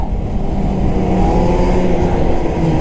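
A two-stroke snowmobile engine drones loudly and steadily at close range while the machine slides and fishtails on snow. The buzzing tone holds without pause or voices.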